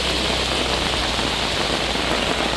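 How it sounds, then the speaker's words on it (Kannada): Heavy rain in Belthangady taluk, Dakshina Kannada, Karnataka: a dense, even hiss of falling water that runs unbroken and fairly loud, with no voices. "ಬೆಳ್ತಂಗಡಿ ತಾಲೂಕಿನಲ್ಲೂ ಭಾರೀ ಮಳೆಯಾಗಿದೆ"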